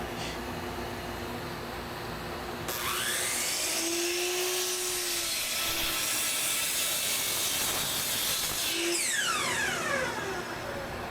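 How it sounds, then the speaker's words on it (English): Walnut boards about three-quarters of an inch thick being cut with a power saw, a steady mechanical whine that jumps louder as the blade bites, with pitch sweeps as it spins up and down. "we're going to go ahead and cut 4 pieces of walnut"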